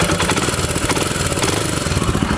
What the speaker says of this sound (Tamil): ஃபஸ்ட்டு வந்து இன்ஜின் சவுண்ட் பார்த்துருவோம்.